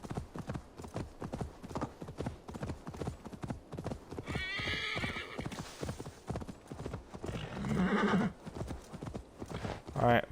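A horse gallops in Assassin's Creed Valhalla, with rapid, steady hoofbeats throughout and a couple of loud neighs rising above the pounding rhythm.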